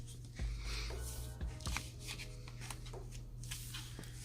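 Glassine envelope handled close by, giving faint, soft crinkly rustles and a few light taps in a quiet room.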